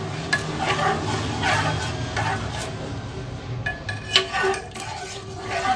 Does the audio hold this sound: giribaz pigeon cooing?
no